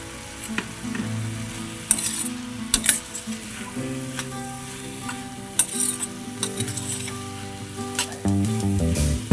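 Grated coconut sizzling and frying in ghee in a pan while making carrot halwa, with steady crackling and occasional scraping and stirring clatter from a spoon, close and fairly loud, no talking.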